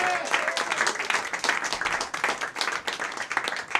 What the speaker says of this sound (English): Let's also give it up for Joe on sound and lights in the back